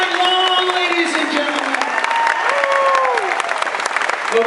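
A concert crowd applauds steadily for a keyboard player on a tour at Fraze, a dense wash of clapping with a few whistles and cheers riding on top throughout.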